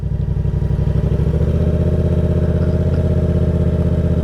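A manual car's engine runs near idle with a steady low chugging pulse as the clutch is eased to its friction point during an uphill start; no talking.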